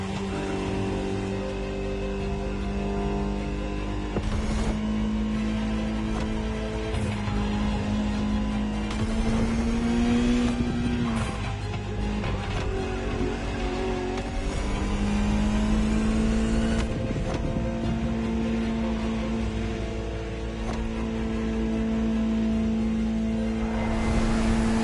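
Ferrari supercar engine in The Crew Motorfest racing game, a steady loud drone with rising and falling pitch as the car accelerates and shifts through gears, running continuously throughout.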